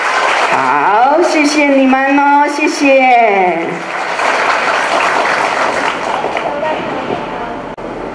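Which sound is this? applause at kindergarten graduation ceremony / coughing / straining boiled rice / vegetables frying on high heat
applause at kindergarten graduation ceremony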